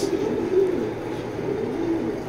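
Soft, low cooing of racing pigeons repeats steadily throughout, a continuous murmur of several birds close by with no talking.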